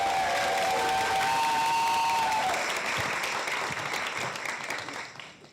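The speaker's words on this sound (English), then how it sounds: "Give us a round of applause." An audience at a Pride panel event gives a warm round of applause, a dense sustained wash of clapping that gradually tapers off, with a brief tonal sound over the start.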